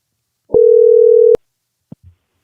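Phone call tone: one steady electronic beep of just under a second, clean and loud against silence, then a couple of faint clicks.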